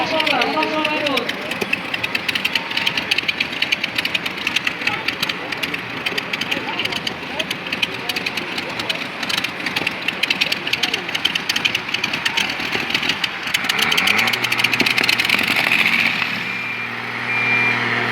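Tractor pulling event with engines running loud and continuous, a heavy rumbling drone with revving swells and a steady tone toward the end, while people talk over it.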